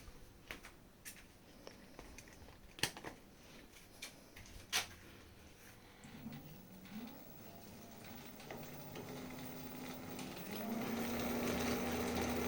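A newly fitted electric bicycle hub motor, run on a 36 V 450 W controller, spins up after a few scattered clicks and knocks, its steady whine climbing in pitch and growing louder as it reaches speed.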